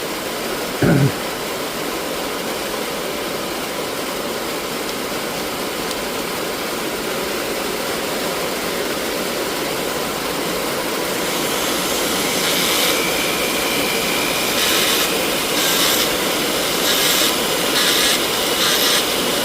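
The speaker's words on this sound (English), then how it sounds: "God dang, it is pouring." Heavy rain pours down as a dense, steady hiss that grows a little louder near the end, heard from inside a workshop with a brief knock near the start.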